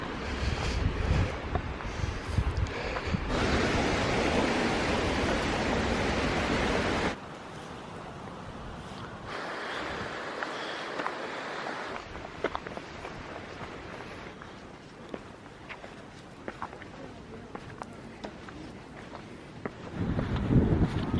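Strong wind gusting through a Japanese forest on the Kumano Kodo trail, a loud roaring rush that buffets the microphone, easing to a softer, fluctuating blow before swelling again at the end.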